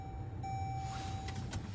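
Parked car with its engine left idling, a steady low hum filling the cabin, with a brief high electronic tone sounding from the car early on and continuing faintly.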